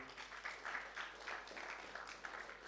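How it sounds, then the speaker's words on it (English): Audience of students at a school orientation giving faint, brief applause, a soft patter of scattered clapping heard from a distance. "Shall we clap for him?"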